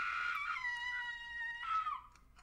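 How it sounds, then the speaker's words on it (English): Shrill, sustained scream with wavering tones in a horror video game, loud at first, dipping, then a second rising burst before fading out around two seconds; no talk over it. "Somebody's screaming!"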